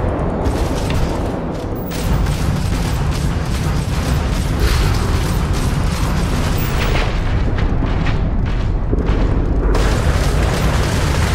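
Spaceship weapons fire in a Starfield space battle, a dense, continuous barrage of booming blasts and mechanical clatter at steady high volume, with a brief lull near the start and no talk.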